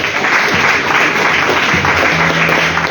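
A Pentecostal congregation in a Mogi Guaçu church claps steadily and loudly for three seconds, a dense continuous wash of hands with a faint sustained tone rising in the background.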